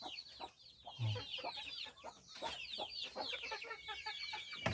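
Hens cluck near their nesting boxes on a rural farm, a steady chatter of overlapping clucks and soft calls from several birds close by, with no talking.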